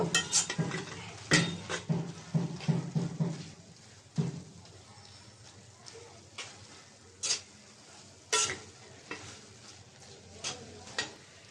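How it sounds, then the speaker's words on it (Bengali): A spoon scrapes and knocks against a pan while dheki greens fry with shrimp, giving a soft sizzle under a series of sharp, uneven clatters and taps, fairly quiet and close with no talking. "শাক ভাজিটা হয়ে গেছে ভালো করে একটু নাড়াচাড়া দিয়ে নামিয়ে নিব"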